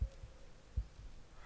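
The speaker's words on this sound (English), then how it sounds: "Why am I hearing a" Faint, slow heartbeat thumps in the video game Deiland, a low double pulse repeating over a soft hum.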